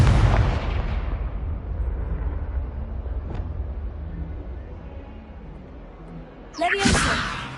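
A Confringo blasting spell goes off in the Hogwarts Legacy video game, with a loud, rumbling explosive boom fading into a long decaying roar, followed by a sharp burst of magical crackle near the end.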